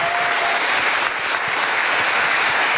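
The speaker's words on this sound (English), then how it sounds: "round of applause for Deepfield" A crowd claps in steady, dense applause that holds at an even level throughout, with no voices standing out.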